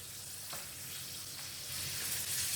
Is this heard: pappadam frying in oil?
yes